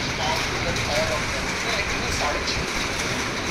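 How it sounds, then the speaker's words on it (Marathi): Dense, steady rain hisses evenly throughout during a lightning storm in Malvan, a broad wash of noise with no distinct thunderclap standing out. "मालवणमध्ये आता पाऊस चालू आहे सध्या जोरात विजांच्या कडकडाटासह"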